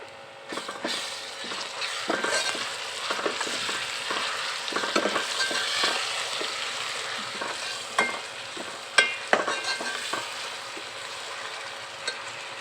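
Onion frying in a pan as garlic ginger paste is stirred in for a red bean curry, a steady close sizzle broken by repeated scraping and clattering stirs, with no talk.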